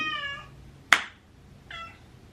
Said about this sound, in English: the meowing doesn't sound normal because she's deaf